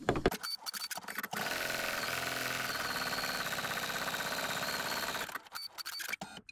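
Sewing machine stitching the satin-stitch underlay of edge stitch and zigzag on a crazy quilt, a steady fast mechanical chatter running about four seconds, with brief handling noises before and after.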